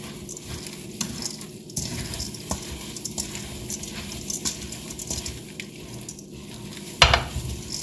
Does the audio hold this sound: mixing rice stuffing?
yes